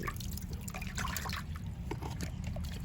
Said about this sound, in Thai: แล้วก็นำน้องลงไปแช่ในน้ำเลยนะครับผมเพื่อให้ดินเขาชุ่มนะครับ